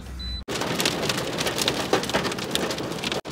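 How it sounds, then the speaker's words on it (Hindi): Hail pelts a car on the road to Murree: a dense, continuous drumming of close, loud hits on the body, with no voices over it. "रास्ते में फिर से ओले शुरू हो गए हैं"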